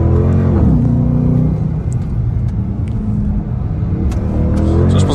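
A Dodge Charger R/T engine roars close by, with deep rumbling revs rising and falling and a rough, sustained growl as the wheels spin.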